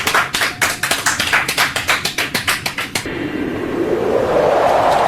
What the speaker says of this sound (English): a little round of applause for Emma Ward.